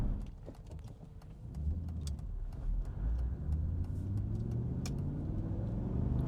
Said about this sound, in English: run the Aston through the gears for you